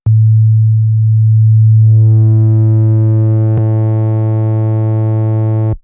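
A loud, steady low sine tone runs through the Chromaglow analog preamp model in Logic Pro, gaining a rising stack of warm harmonics partway through, with a brief click in the middle before it cuts off.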